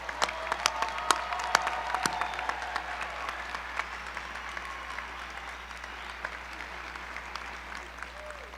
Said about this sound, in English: Let's have a round of applause for all the graduates.